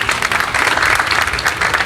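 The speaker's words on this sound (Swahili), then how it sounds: "tuwapigie makofi" Audience applause at a hotel project launch in Zanzibar, a dense, loud, continuous clapping from a large crowd sustained throughout the short stretch.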